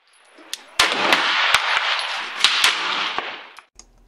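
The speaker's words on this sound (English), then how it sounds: "when I'm shooting this pistol" Glock 17 pistol fired on a range, a quick series of about eight sharp, loud cracks at uneven intervals, each with a short ringing tail, and no talk.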